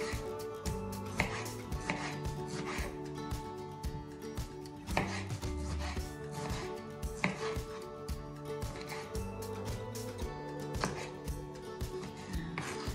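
Knife chopping tomato on a cutting board in a home kitchen while making Hamburger Helper, a steady run of sharp, close knocks repeating at a brisk, slightly uneven pace with no talking.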